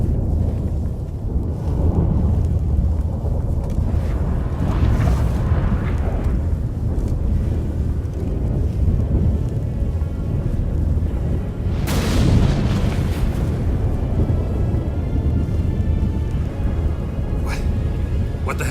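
Thunderstorm rumble in The Witcher 3, a continuous low roar with a loud crack and boom near the middle, with voices speaking over it.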